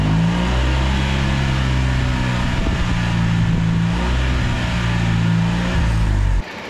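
A Fiat 500 that has been blowing blue exhaust smoke runs at a steady idle while warming up, loud and close with a constant rumble, then goes quiet at the end.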